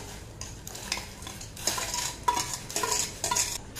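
Sago being stirred into boiling water in a pot for carrot payasam, a spoon scraping and clinking against the vessel in several short bursts over a soft bubbling background.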